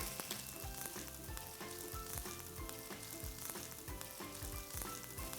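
Kavurma meat fries with spices in a pan, giving a steady, close, loud sizzle with repeated stirring scrapes and bubbling pops throughout, with no talking.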